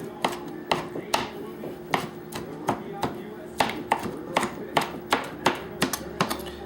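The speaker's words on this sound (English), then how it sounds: "just put them out on your cutting board and just cut them kind of coarsely" A knife chops coarsely on a cutting board in a home kitchen, making a series of irregular, crisp knocks with a faint background hum.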